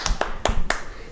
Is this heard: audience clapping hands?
yes